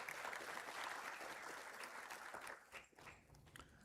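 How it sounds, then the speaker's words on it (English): Graduation audience applauding at a college commencement ceremony: dense, steady clapping from a large crowd that thins slightly toward the end, moderately distant. "give yourself a round of applause."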